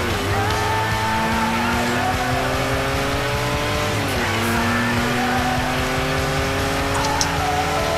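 A car engine drones loudly and continuously in Forza Horizon, revving up through rising gear shifts with a brief dip and tire scrub, close and dominant with hardly any talk.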